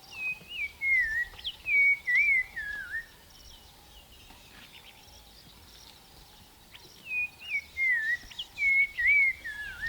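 Black-crowned tchagra calling from a bush in the Londolozi bushveld at dawn, a nearby series of clear descending whistled phrases, repeated in two bursts separated by a quieter pause.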